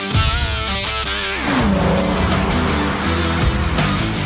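A 2001 Toyota Avalon TRD drives on the Sonoma Raceway track, its exhaust rising through gear changes with a loud, close engine roar and a pitch drop as it shifts, with no talk over it.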